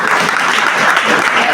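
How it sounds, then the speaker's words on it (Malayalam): Audience clapping at a tournament prize-giving ceremony, loud and continuous across the whole moment, a close, full burst of applause. "എല്ലാവരും കൈയടിക്കുക"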